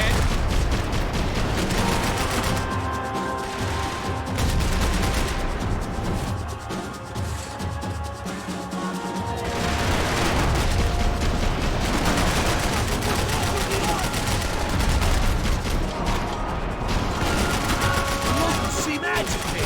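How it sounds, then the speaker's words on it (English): Sustained gunfire in a Max Payne 3 shootout, loud overlapping shots and impacts with bullets whizzing past, carrying on nearly continuously for about twenty seconds under a music-like bed and some talk. "Bullets whizzing past my head."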